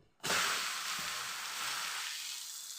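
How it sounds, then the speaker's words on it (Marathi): Methi paratha dough hits a hot oiled tawa with a sudden loud sizzle that starts sharply and settles into steady, close frying hiss with no talking. "छान तवा गरम झालेला आहे आता यावर हे पीठ टाकून घेऊ"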